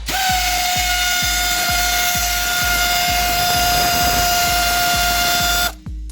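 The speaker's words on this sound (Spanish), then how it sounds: "vamos a aflojar los tornillos que he dicho por aquí" A power tool loosening the rear brake caliper bolts on a car with a 14 mm socket gives a steady, close mechanical whine with evenly spaced ticking pulses, then cuts off abruptly near the end.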